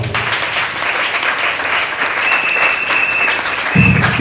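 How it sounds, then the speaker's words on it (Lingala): A congregation applauds at a church ordination service, producing loud, continuous, even clapping from many hands that holds steady throughout, with a brief low thump near the end. "Est-ce qu'on peut acclamer la parole?"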